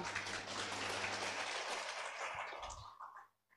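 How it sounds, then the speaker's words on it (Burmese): Audience applause at a Successmore business presentation, a dense, steady wash of clapping that holds strongly for nearly three seconds before thinning out and stopping. "လက်ခုပ်တက်လေးတီးပေးလိုက်ပါဦး"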